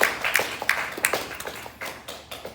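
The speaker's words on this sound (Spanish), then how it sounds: "Un aplauso. Aplauso." An audience gives a short round of scattered applause after a talk, a dozen or so separate claps spread over a couple of seconds, fairly close and thin rather than a full crowd.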